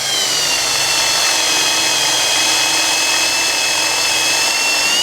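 Power drill with a Forstner bit boring a hole into wood for a sawmill blade mount, a steady continuous high whine with grinding cutting noise throughout, loud and close.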